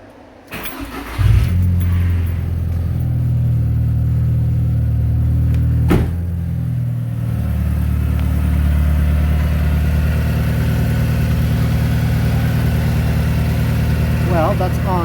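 A car with a 1.8T engine cranks and catches, then settles into a steady, loud idle with a low throbbing hum that carries on close by for the rest of the clip.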